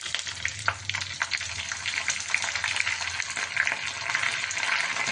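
Curry leaves hit hot oil for a Kerala moru curry, giving a bright, crackling sizzle that stays loud and continuous, with a few sharper pops at the start.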